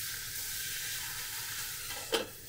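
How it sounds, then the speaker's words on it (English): Swordfish in salt koji sautéing on low heat in a pan, a soft steady sizzle with a brief louder spatter near the end, close and without talking. "before I saute the fish"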